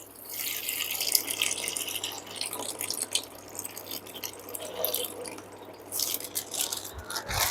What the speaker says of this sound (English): I am removing some of the water so that the tank will not overflow